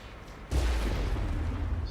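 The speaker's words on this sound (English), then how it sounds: "Oh! These are the explosions they were talking about." A sudden heavy blast from the video game Mass Effect hits after a quiet half second, followed by a sustained, rumbling roar of continued explosion noise.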